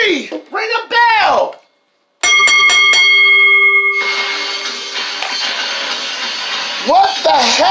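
At a wrestling event, after a three-count pin in an ECW Championship fall-count-anywhere match, a ring bell clangs several rapid strikes and leaves a long ringing tone under crowd roar, with a commentator talking before and after.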